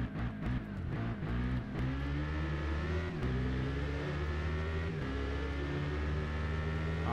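A KTM 1190 RC8 two-cylinder motorcycle racing in the game RIDE, its engine revving hard with a raspy, rising and falling tone through gear changes, loud and close throughout.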